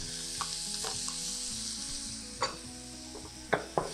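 Mushrooms frying in oil in a pan give off a steady, close sizzle, with several sharp taps and scrapes of a utensil near the end and no talking.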